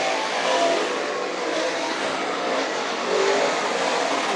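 Modified race cars circling Can Am Speedway in a feature race, their engines a continuous loud roar that rises and falls as the pack passes.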